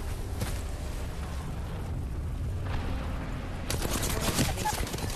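Apex Legends gunfire: a steady crackle of distant shots and impacts fills the first half, then a louder, denser burst of close fire erupts near the end.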